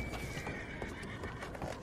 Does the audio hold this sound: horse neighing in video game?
yes